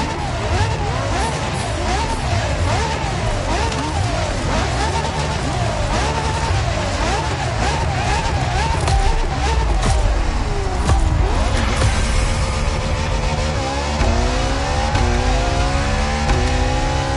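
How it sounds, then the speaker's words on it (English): Ferrari LaFerrari hybrid supercar from Maranello in The Crew Motorfest, engine revving up and down in repeated loud surges, then accelerating hard with rising pitch and some tire noise, with a voice faintly underneath. "And a new supercar emerges from the Maranello factory."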